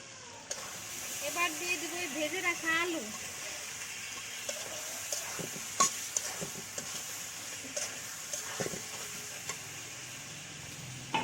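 Spice paste being stirred and sautéed in oil for a Bengali pabda fish curry, a steady soft sizzle under scraping stirs and light clinks, with brief voice-like sounds early on.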